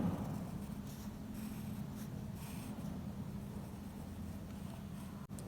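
Urdu letters written by hand with pen on paper make a continuous soft scratching, close and steady, over a constant background hiss, with no speech.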